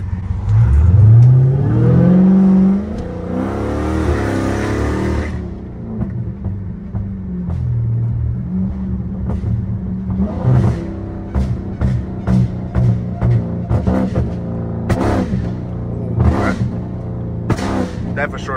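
A modified Jailbreak Chrysler fitted with a flame tune revs hard in loud bursts, first a long climbing rev, then a run of sharp pops and crackles from the exhaust as it shoots flames, with people talking excitedly over it.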